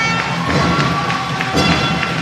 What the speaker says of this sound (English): the crowd letting them know how they feel with some applause